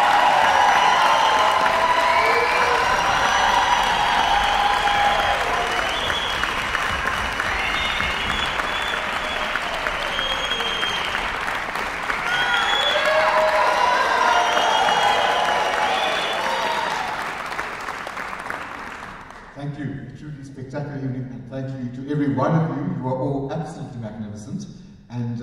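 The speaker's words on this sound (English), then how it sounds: "Can we ask them to come on stage and give them a round of applause?" Audience applause for singers at a singing prize concert, loud and sustained for about eighteen seconds, then tapering off as a voice speaks over the fading claps.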